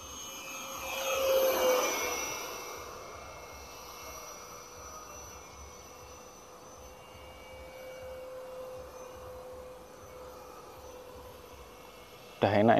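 An RC F18 model jet flying overhead as its motor throttles up, a high whine that swoops past loudly, then settles into a steady thin tone at a distance before a sudden loud burst at the end.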